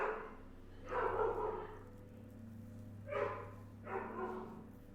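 A small pet dog named Bon Bon barks a few times indoors, in two separate short bursts, moderately close against a steady low background hum.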